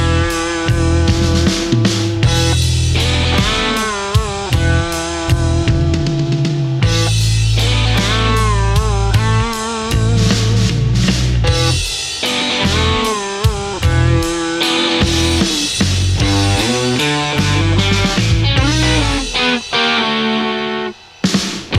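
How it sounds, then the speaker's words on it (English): A fuzzy, distorted blues rock guitar riff plays loud and continuous for over twenty seconds, with rhythmic chugging notes and bends and no voices. "there is a kind of fuzzy blues rock type riff going on over the top"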